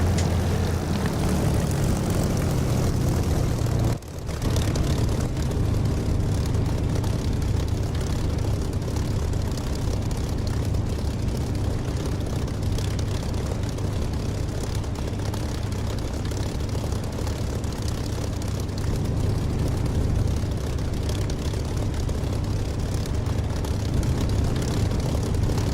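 A propeller aircraft engine idles before takeoff in the DCS flight simulator, a loud, steady low drone with a brief dip near the start and then an unbroken rumble throughout.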